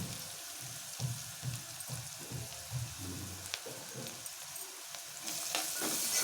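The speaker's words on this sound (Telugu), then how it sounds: "ఇప్పుడు మనం ఈ టైంలో పసుపు వేసుకుందాం." Onions and turmeric frying in a pan, a steady close sizzle with scraping stirring strokes, rising to a louder hiss near the end.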